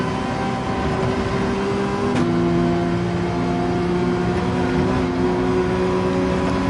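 Race car engine held at full throttle in Gran Turismo 7 on Dragon Trail, a loud steady whine that drops in pitch once near the two-second mark as the car shifts gear, then keeps droning.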